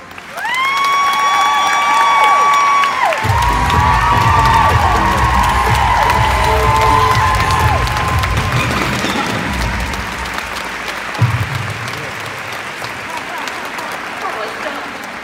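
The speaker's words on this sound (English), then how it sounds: "Please, a big round of applause again." A crowd at a speech event breaks into loud applause mixed with cheers and whoops, a broad roar that slowly fades, while a voice speaks over the opening seconds.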